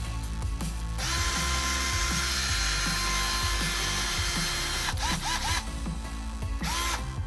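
A Dnipro-M CD-12QX cordless drill-driver runs steadily at high speed in drilling mode, a continuous whirring motor with a slight rattling, briefly dipping before spinning up again.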